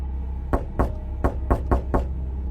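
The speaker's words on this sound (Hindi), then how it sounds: "तभी दरवाजे पर फिर से दस्तक हुई" Six sharp knocks land on a wooden door in an irregular pattern, each hit loud, close and distinct, with brief quiet gaps between them and no voices.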